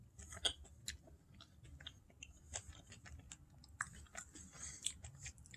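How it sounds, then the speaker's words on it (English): Someone chews and bites on ice at a dinner table, a faint series of irregular crunches and small cracks, close by and quiet against a low background hum. "habit of chewing ice at times"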